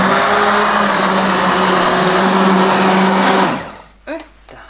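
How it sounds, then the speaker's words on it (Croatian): An immersion blender purees apricot jam in a pot with a loud, steady whirring drone for about three and a half seconds, then cuts off, followed by a brief voice. "I sada samo sa štapnim mikserom proći kroz cijelu površinu."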